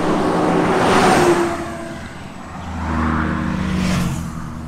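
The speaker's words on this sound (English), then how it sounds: "there's actually a lot of traffic here" Traffic at a busy roadside near a stall, with a car engine accelerating past up close, fading, then another vehicle rising in the distance over steady road hum.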